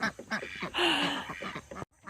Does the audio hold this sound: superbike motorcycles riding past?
no